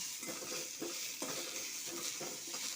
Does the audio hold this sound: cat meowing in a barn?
no